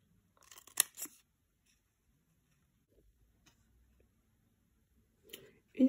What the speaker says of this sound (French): Vous prenez par la suite vos ciseaux et vous découpez comme ceci